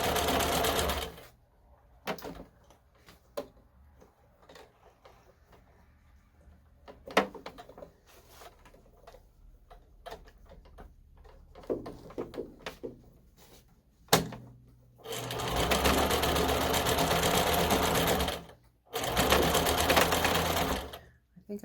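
Sewing machine stitching a dog costume, starting with a burst of stitching, then quieter handling clatter, then two long loud runs of rapid stitching near the end.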